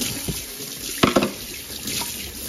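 Running tap water rinsing in a kitchen sink after a microwave clean, a steady close hiss of flowing water with a brief splash in the middle.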